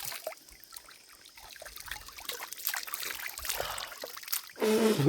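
A forest stream trickles softly, a faint steady wash of water that swells louder near the end, with outdoor background noise around it.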